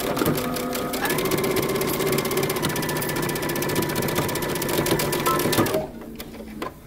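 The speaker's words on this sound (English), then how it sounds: "we're going to sew using 5/8 of an inch seam allowance." Sewing machine stitching the back yoke pieces of wide leg pants with a 5/8 inch seam allowance, a steady fast whirring run for nearly six seconds before stopping abruptly, close and alone.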